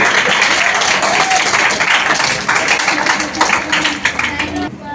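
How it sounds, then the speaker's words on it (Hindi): A school assembly at a high school breaks into loud applause to welcome a speaker, dense clapping filling the hall and thinning slightly toward the end, with some voices mixed in. "बाबूलाल सर जोरदार तालियों से इनका स्वागत करेंगे।"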